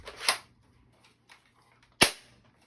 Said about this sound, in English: Grenade launcher spring action actually fires three pellets.